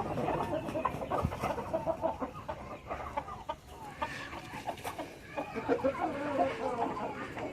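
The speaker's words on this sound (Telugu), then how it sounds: "వెల్కమ్ టు మెదక్ జాతి కోళ్ళు" A flock of Medak breed chickens on a Telangana farm with egg-laying hens and breeders, chattering and clucking continuously over several seconds, nearby and steady, with occasional louder squawks standing out.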